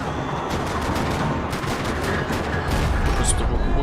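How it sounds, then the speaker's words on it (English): Gunfire rattles across a parking lot in the video game Max Payne 3, a dense, continuous barrage of rapid shots that stays loud and steady throughout. "Another parking lot rattling with gunfire."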